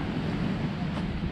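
Waves wash on a beach lined with pines and moored boats, a steady broadband surf roar mixed with wind buffeting the microphone, unbroken for the whole short stretch.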